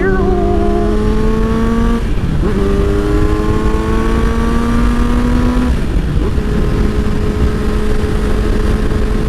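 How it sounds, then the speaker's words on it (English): A motorcycle engine drones loudly while riding, its pitch climbing through gears with two brief dips for shifts; steady wind roar underneath. "I do like the sound of this motorcycle."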